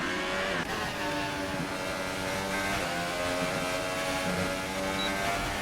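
Racing car engine from a racing video game league event in Australia, holding a loud, continuous high-pitched drone with slight pitch dips as the throttle eases, heard close and alone.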